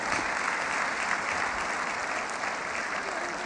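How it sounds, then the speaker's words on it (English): An audience at a motivational talk event claps steadily, a dense sustained wash of applause filling the room at even loudness throughout. "Give her a round of applause."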